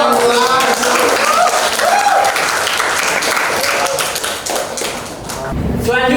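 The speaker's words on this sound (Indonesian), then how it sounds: "Oke, tepuk tangan." An audience at an Indonesian teacher-training session on love of homeland and religious moderation claps steadily for about six seconds, dense and loud, thinning briefly near the end before picking up again.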